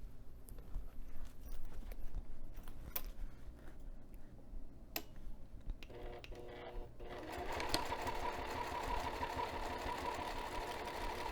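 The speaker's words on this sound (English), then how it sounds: "I'm going to take this back over to the sewing machine, and I'm going to top stitch the top edge of the binding now" Domestic sewing machine top stitching the top edge of a fabric binding on a removable zipper pocket, a steady continuous whir with rapid ticking needle strokes that grows louder and busier in the second half, heard alone without talk.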